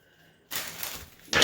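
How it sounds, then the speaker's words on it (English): A deck of tarot cards is shuffled in two quick papery bursts: a longer riffling rush, a short pause, then a sharper second burst, close and clear in a quiet room. "let me just shuffle the Tarot"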